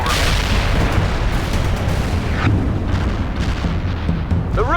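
Artillery barrage in World in Conflict, a continuous rumbling roar of heavy explosions with booming impacts, loud and dense throughout.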